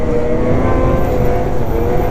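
A 2027 XRS 600RR snowmobile engine holds a steady loud drone under throttle, close and continuous with no break.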